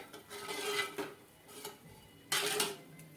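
A spoon scrapes and stirs around a metal pot as sugar is mixed into Gujarati kadhi, with short rasping strokes in bursts, fairly close and moderately loud, without talk.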